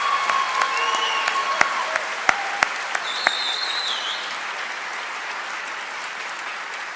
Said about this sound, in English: Please join me in another round of applause for these outstanding musicians.